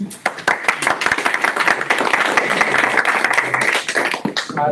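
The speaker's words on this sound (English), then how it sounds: "Round of applause." Audience applause at a Sydney CocoaHeads developer meetup, a dense burst of clapping sustained for several seconds, fairly close and loud, tapering slightly at the end.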